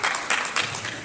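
Applause and cheering break out for soldiers at an Army basic combat training graduation ceremony at Fort Sill, Oklahoma. A dense crowd claps steadily and loudly for a moment, with the clapping swelling in small waves.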